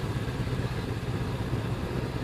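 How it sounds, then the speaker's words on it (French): A Honda CB500X twin-cylinder motorcycle engine pulls in fourth gear up a slope, giving a steady, low throbbing drone with constant rumble and wind noise, no voices. "Mais le moteur est souple là, pour un bicylindre."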